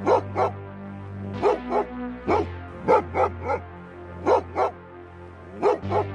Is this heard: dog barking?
yes